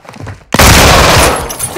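Gunfire in the video game Modern Warfare 2: after a brief quiet stretch, a sudden loud burst of shots erupts and holds as a dense, sustained barrage before easing slightly.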